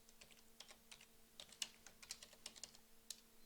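Quiet, close typing on a computer keyboard, a string of light irregular key taps with no voices.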